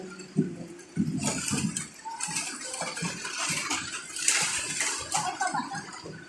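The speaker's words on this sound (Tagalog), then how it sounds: "naghuhugas po yung isa namin ditong anak" Running tap water splashing over dishes as a child washes up at home, with clinks and irregular bursts of spray throughout, fairly close.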